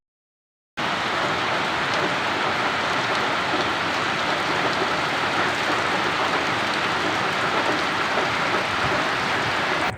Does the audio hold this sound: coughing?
no